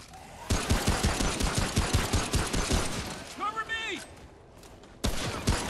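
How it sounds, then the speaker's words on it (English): Rapid, evenly spaced gunfire from a gun in Remnant: From the Ashes rings out as a loud burst of sharp shots for several seconds, breaks off briefly while a creature's wavering cry sounds, then resumes with another shot. "I can just headshot these guys. One shot kills."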